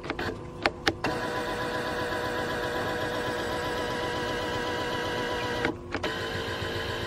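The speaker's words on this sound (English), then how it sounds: "If I operate the motor, let me just hold this, if you can see that." An electric steering column reach adjustment motor runs steadily for about seven seconds, its stripped plastic nut leaving the threads turning without moving the wheel; a continuous whirring drone, close and moderately loud, broken by a few brief clicks near the start and a short dip near the end.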